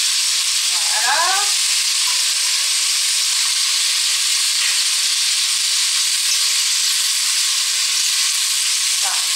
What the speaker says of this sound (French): Et on va le laisser dorer encore